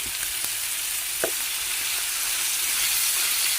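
Small unpeeled shrimp added to a pan of jackfruit and pork sizzle in a steady, close frying hiss, broken by a few faint stirring clicks.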